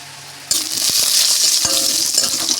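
Cashews and raisins drop into hot ghee in a wok and break into a sudden loud sizzle that holds steadily, with a few sharp clinks and stirring knocks close by.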